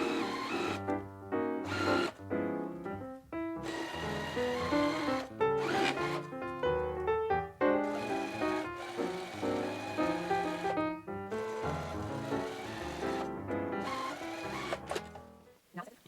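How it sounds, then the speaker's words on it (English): A sewing machine stitches quilt blocks with a 1/4 inch seam in busy, rattling bursts with brief pauses between runs, close and steady, with faint handling noises and no clear talking. "let's take them back to the sewing machine, same 1/4 inch seam allowance,"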